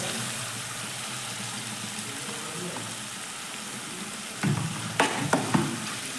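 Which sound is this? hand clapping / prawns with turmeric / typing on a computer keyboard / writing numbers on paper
prawns with turmeric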